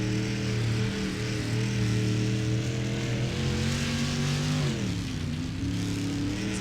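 Street stock car engines roar in an iRacing sim race at Kokomo, a loud, steady multi-engine drone with layered pitches that sag and then climb again as the cars come off the throttle and accelerate out of a corner.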